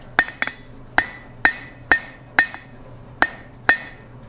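Hammer blows on a fire poker point worked at the far edge of a blacksmith's anvil, about eight sharp metallic strikes in a steady rhythm, each ringing briefly, close and fairly loud with no voices.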